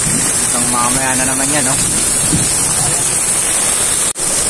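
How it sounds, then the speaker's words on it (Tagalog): Heavy rain pours down steadily as broadband hiss across the whole clip, with someone speaking briefly over it near the start. "lakas na naman ng ulan"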